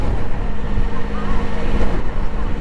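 Can-Am Spyder three-wheel motorcycle on the move, a steady low engine rumble blended with buffeting wind noise throughout a short stretch of riding.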